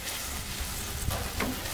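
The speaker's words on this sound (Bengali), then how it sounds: "মশলাটাকে সুন্দর করে কষিয়ে নেব। এখন দিয়ে দেব চর্বি, মাছের চর্বি, মশলা কষানোর সময়" Spice paste sizzles in a pan with fish fat, a soft, continuous fry with a few faint stirring touches.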